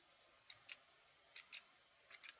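Scissors snip through strings while finishing a craft bow, a few quiet, crisp cuts in close pairs with pauses between, in an otherwise quiet room.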